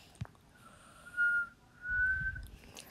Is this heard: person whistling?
yes